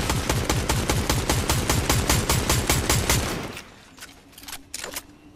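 Rapid automatic gunfire in a video game, a fast even stream of sharp shots for about three seconds, followed by a few scattered louder pops against quieter background.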